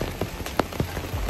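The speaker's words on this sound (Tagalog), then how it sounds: "grabe yung ulan" Heavy rain pours steadily onto surfaces outdoors, a dense continuous hiss with scattered louder drips and splashes. No voices are heard.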